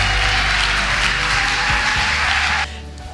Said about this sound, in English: please help me give a massive round of applause to Andy Stevenson